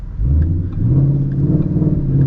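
A Ford Mustang GT with a Corsa Xtreme exhaust gives one close, loud rev, its deep note climbing and then holding at a higher steady drone.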